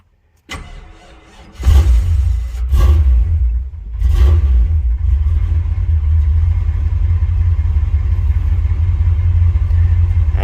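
An old Chevrolet K10 squarebody pickup cranks with a few whirring starter bursts, catches, and settles into a loud, steady rumbling idle close by, with a cold engine and no choke.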